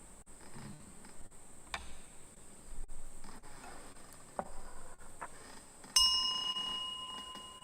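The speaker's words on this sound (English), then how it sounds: "Bell sound" A bell rings out near the end as a lecture on the Avatamsaka Sutra begins: a clear, sustained struck tone that rises out of a quiet room and lingers as it fades.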